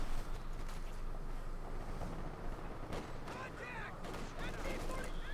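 Battlefield gunfire in Company of Heroes 2, a dense din of distant shots and explosions in a Wehrmacht versus US Forces match, steady and mid-level with voices faintly present.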